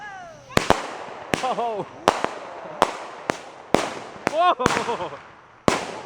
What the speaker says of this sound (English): And that's how fireworks go terribly wrong.